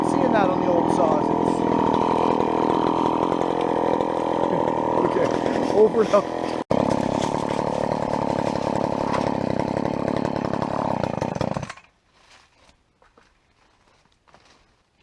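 A chainsaw cuts firewood at a farm, its engine droning loud and steady with brief rev changes, then stopping abruptly near the end to leave faint sounds; someone speaks briefly.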